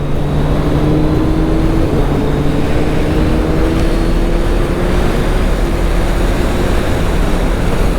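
A 2022 Suzuki Hayabusa motorcycle at speed gives a steady, loud roar of engine and wind noise with faint rising engine tones, continuous throughout, with no talking.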